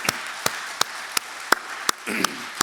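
A church congregation claps together at a Korean early-morning prayer service, sharp hand-clap bursts recurring about every third of a second over a steady murmur of the room, fairly quiet and alone without speech.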